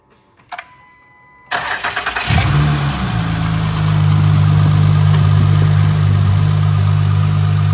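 An Acura MDX engine with a newly installed lightweight crank pulley cranks over after a few faint clicks, catches and settles into a steady, loud, close idle as it warms up.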